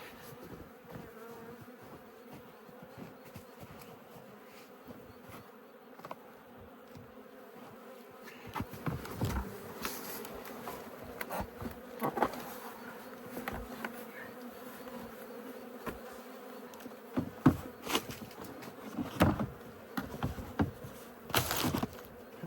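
Honeybees buzz steadily around an opened hive during a March cluster check, a dense droning hum with closer bees flitting past, plus scattered knocks and scrapes as the box and bottom board are handled.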